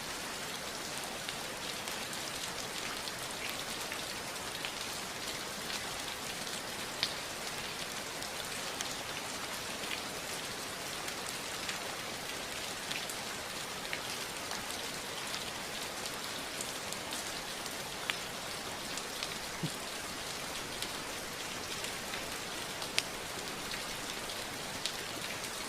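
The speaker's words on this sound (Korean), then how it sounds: "지금 여기 빗소리가" Steady rain falls throughout, a dense even hiss of drops on surfaces with occasional louder nearby drips, and no voices over it.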